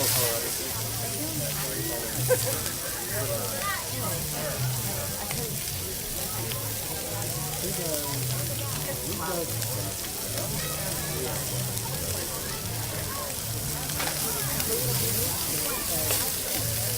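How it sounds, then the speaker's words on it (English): Scallops searing in a hot pan, a steady, even sizzle throughout with a faint low hum underneath. "So we're searing some scallops."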